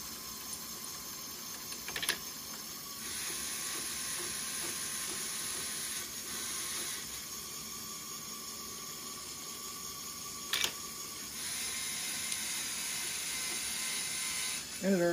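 A LEGO bowling pinsetter's distributor mechanism runs with pins fed in by hand, giving a steady close whirring hum with a faint whine, broken by a few sharp plastic clicks and clatters near the start, middle and end.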